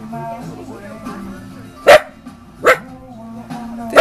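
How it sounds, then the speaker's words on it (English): Two loud, close barks from a small dachshund at an indoor dog gate ring out a second apart, with a third starting at the end, against a quiet indoor hum. "is my silly weenie doggy barking at a dog gate."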